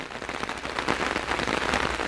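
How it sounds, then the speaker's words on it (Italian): Steady, heavy rain pours onto a flooded city street near a collapsed bridge, a loud dense hiss of drops filling the whole moment without any voices. "Come vedete continua a piovere in maniera ininterrotta"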